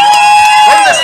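A crowd at a live show somewhere in Cuautitlán cheers and applauds loudly in a short, dense burst, with whoops and voices mixed in.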